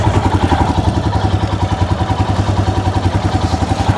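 Adventure motorcycle engine with the throttle closed during slow off-road riding on clutch control: a loud, steady, rapid thumping idle with a rattling clatter that holds an even rhythm throughout.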